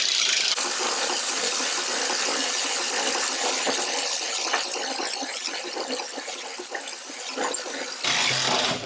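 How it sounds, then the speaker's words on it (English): Gasoline engine of a Stuart tank being turned over by hand with a crank rod at the back of the hull, a continuous close whirring grind with metallic squeals that holds steady before easing off. "So in order to manually crank the engine over, we have a crank rod that's stored on the back of the tank."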